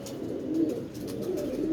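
An old pigeon coos in a soft, steady low murmur, close by and alone, with several rolling coo phrases across the short stretch.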